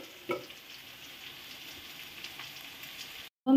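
Fried vegetables stirred into rice frying in a pan, a soft continuous sizzle with one brief scrape of the spoon near the start, then a sudden cut before a short louder burst.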